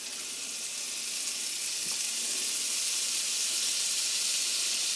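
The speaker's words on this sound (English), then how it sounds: "We're going to test by dropping our butter." Butter dropped into a hot æbleskiver pan sizzles in a loud, steady, close hiss that swells slightly and holds through the whole stretch with no voices.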